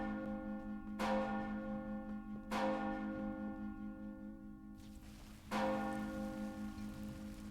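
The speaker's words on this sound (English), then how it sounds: "What is that? The town bells! Something is amiss outside." Town bells ring out in the Lord of the Rings Online video game, three heavy resonant strikes spaced a couple of seconds apart, each with a long humming decay over a soft rain-like backdrop.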